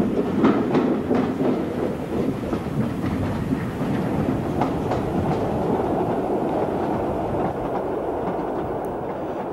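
The Orient Express runs on tracks toward Greece in 1967, a loud, steady rolling rumble with repeated clickety-clack wheel beats close by, with no voices.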